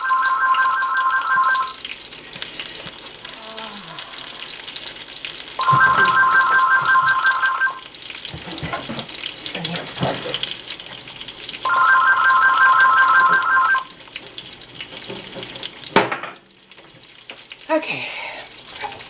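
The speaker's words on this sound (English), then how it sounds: "I don't know why the phone seems to ring at the wrong time." A telephone rings in a kitchen during pancake cooking, three repeated electronic ring bursts separated by pauses, over running water and clatter, with a brief faint voice.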